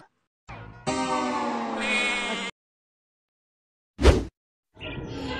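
A goat gives several close, loud bleats, one long wavering cry followed by shorter calls, separated by brief silences, with no talk over them.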